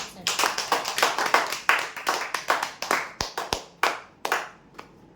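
Loud applause for a prize-draw winner at a draw event, a dense burst of many hands clapping in quick irregular bursts that thin toward the end, close and continuous for about five seconds.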